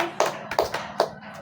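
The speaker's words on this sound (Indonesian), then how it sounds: "Tepuk tangan, give applause." A small class of schoolchildren claps hands in applause during a classroom lesson: a short burst of several separate, sharp claps, close and fairly loud, then quickly fading.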